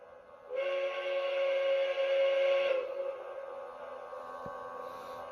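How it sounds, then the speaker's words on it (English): A Lionel LionChief Bluetooth Walt Disney World 50th Anniversary Express toy train sounds its steam-style whistle in one sustained, fairly loud blast of about two seconds, over a soft background hum. "Blow the whistle."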